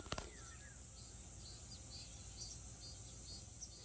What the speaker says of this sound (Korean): 저거 앞산에서 매미 우는 소리